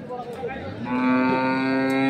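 A cow or young calf at a village cattle market lets out one long, sustained moo that starts partway through and holds steady to the end, loud and close over faint background murmur.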